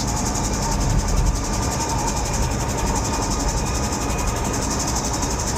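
The piston engine of a Bell 47 helicopter drones steadily after being rolled back to idle in flight, a loud, continuous mechanical roar with rhythmic rotor throb and no speech.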